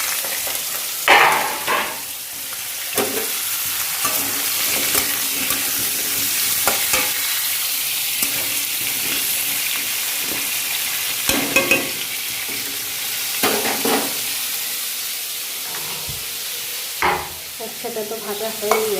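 Potatoes fry in a pan for a curry, a loud, close, steady sizzle broken by repeated scraping stirs of a spatula throughout, with no talking.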